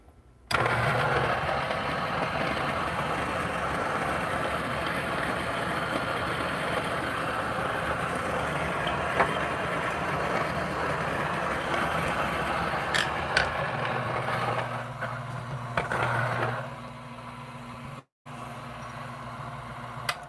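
A Niche coffee grinder runs steadily on setting 10, grinding beans for espresso with a loud, continuous motorized whir that keeps going throughout, its tone shifting slightly and dipping briefly near the end.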